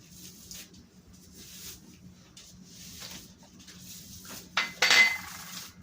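A utensil stirs food in a bowl, giving soft intermittent scraping near the mic that ends in a couple of louder clinks against the bowl, with no talking.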